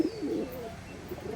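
Pigeons coo softly in a loft, a couple of low throaty rolling calls close by over faint background noise, with no talking.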